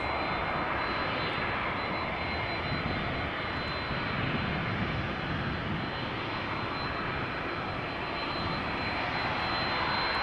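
A KLM jet arriving at Amsterdam Schiphol Airport from Edmonton, Canada, heard as a loud, steady broadband engine roar that holds constant throughout with no voices.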